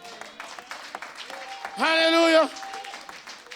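A church congregation breaks into a brief burst of applause and cheering during a pastor's service, rising for under a second amid loud sung and spoken voices and a sustained held note.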